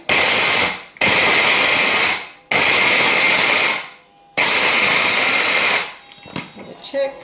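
An electric chopper whirs through marrow in three loud, steady bursts of a few seconds each, with short pauses between them, followed by faint clatter as the machine stops.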